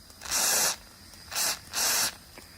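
Water sprayed onto a Mamod Brunel model steam locomotive gives three short, close hissing bursts, a long one followed by two briefer ones, with quiet gaps between.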